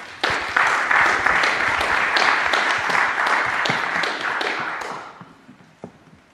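Audience applause welcoming Kate Crawford to the stage at a privacy panel, a dense steady burst of many hands clapping that swells quickly, holds for about five seconds, then tapers off into a few scattered last claps.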